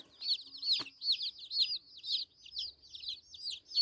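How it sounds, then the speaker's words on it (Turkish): Young chicks set out in the sun cheep in a rapid, steady series of high peeping calls, close and fairly faint, with a brief knock partway through. "Burada civcivlerim de burada."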